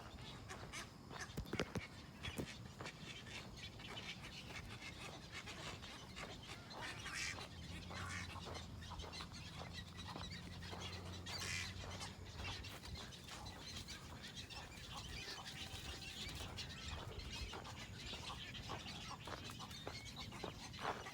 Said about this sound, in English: some of the birds are flying away. Actually, we have quite a few that are flying away right now.